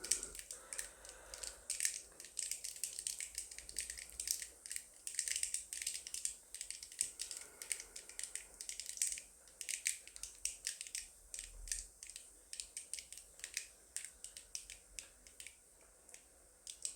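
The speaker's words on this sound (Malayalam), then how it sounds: "കടുകൊക്കെ പൊട്ടിക്കഴിഞ്ഞു" Mustard seeds splutter and pop in hot coconut oil while a beetroot thoran is being made. Dense, rapid crackles and sharp snaps run steadily throughout, close and fairly loud, with no talking.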